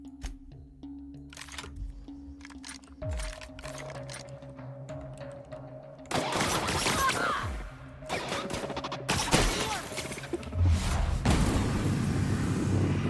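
Shotgun fire in The Outer Worlds, several sharp, loud blasts with ringing tails, spaced a few seconds apart amid game ambience and machinery hum.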